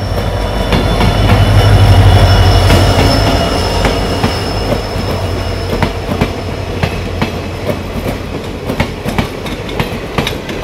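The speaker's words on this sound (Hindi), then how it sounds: "WDP 4D लोकोमोटिव है।" WDP 4D diesel locomotive hauling a passenger train between Rangiya and Tinsukia, a loud, close rolling rumble that swells then steadies, with repeated clicking wheel beats over the rails and no talking.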